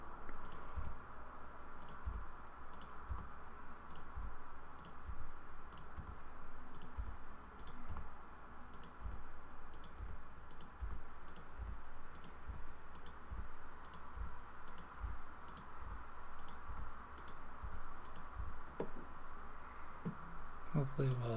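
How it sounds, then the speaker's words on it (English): Computer keyboard keys and the enter key are pressed in a steady, evenly spaced rhythm of soft clicks over a low background hum, continuing throughout at moderate distance. "We're going to click it and click enter"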